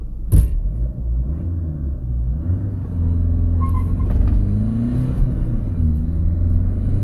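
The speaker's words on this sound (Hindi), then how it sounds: "गाड़ी का एक स्प्रिंट रन करते हैं।" A Mahindra Marazzo accelerates hard on a sprint run, its engine droning loud and close from inside the cabin, rising in pitch through the gears with a thump near the start.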